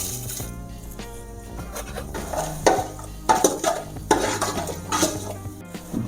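Cumin and cloves fry in hot oil for a Rayalaseema-style chicken curry, a soft sizzle under clattering stirs and scrapes of a utensil against the pot, close and uneven.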